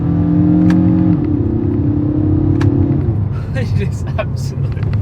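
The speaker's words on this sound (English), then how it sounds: "Hear this exhaust." A 2022 Kia Cerato GT engine revs loudly, its exhaust roaring and then dropping back into a rumbling idle, with some crackles and pops near the end.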